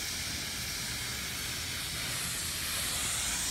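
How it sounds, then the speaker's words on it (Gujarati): A pressure cooker cooking a Valor bean and brinjal curry vents steam in a steady, loud hiss that runs unbroken for about three and a half seconds and swells slightly toward the end, with no voices. "2 સીટી થઈ ગઈ છે"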